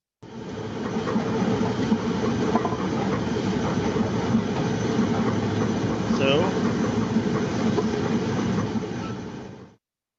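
A train passes at speed, a steady rolling rumble with faint clatter that holds evenly for about nine seconds and then cuts off abruptly, heard at moderate level as playback.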